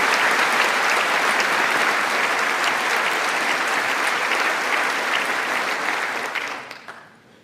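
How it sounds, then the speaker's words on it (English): Bipartisan applause from a large audience at a political address, dense sustained clapping that fades away over the final second. "A bipartisan clapping."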